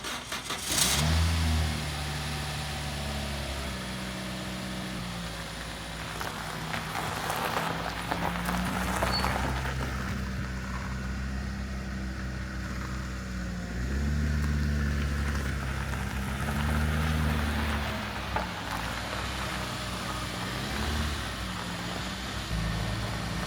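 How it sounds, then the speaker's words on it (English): A Toyota Celica with its battery freshly reconnected cranks and fires up, then settles into a steady, slightly uneven idle with a few blips of revving, heard close and alone. "I've just connected the battery back up, so we'll start her up, see how she runs."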